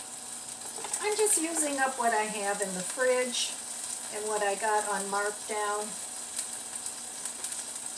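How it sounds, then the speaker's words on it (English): Sausage sizzles and crackles steadily in a hot pan while a person talks over it. "In here I'm frying my sausage."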